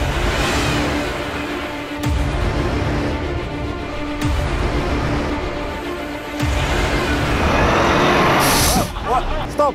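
A Volvo truck hauls a 750-tonne heavy-haulage load with a loud, steady diesel engine drone. Periodic gear-change dips break it every couple of seconds, the engine swells near the end, and radio-style voices come through partway.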